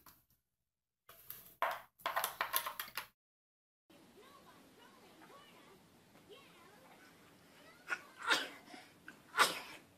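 A sneeze, likely from a small child, bursts out in a short cluster of loud close bursts, with other brief noises and breathing around it indoors.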